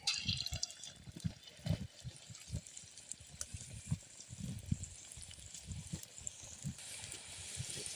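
Small pakodas of rava and curd batter are dropped into hot oil and fry with a steady bubbling crackle, close but fairly faint, with scattered soft pops and no talk.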